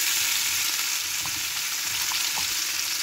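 Chopped onions fry in oil left over from frying hilsa fish, giving a steady, close sizzle with faint stirring clicks and no voices.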